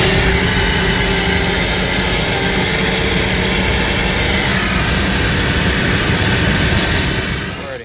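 A Mercedes car engine accelerates at full throttle in 4th gear, a loud, steady, dense roar that holds constant for several seconds and drops off abruptly at the end, with no talk.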